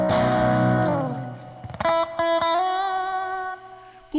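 Fender Stratocaster electric guitar played through a boost pedal with passive EQ, a sustained chord fading out, then a few sharp struck notes ringing with a warm, clean boosted tone and a final pick attack.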